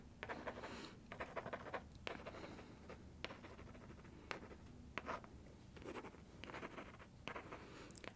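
Pen or pencil scratching across paper in soft, quiet strokes with brief pauses, close and intimate in an ASMR colour-analysis roleplay, with no voice over it.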